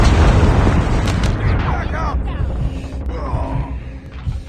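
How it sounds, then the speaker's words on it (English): A heavy explosion from a predator missile strike during a Hardpoint match of Call of Duty on the Shipment map: a loud, deep boom that rumbles and then fades, with game voice lines heard over it. "Friendly predator missile inbound."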